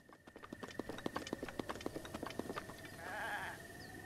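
Goat in Zelda: Breath of the Wild on Wii U, with a quick series of clip-clop hoof steps followed by a brief bleating call near the end, under steady game ambience.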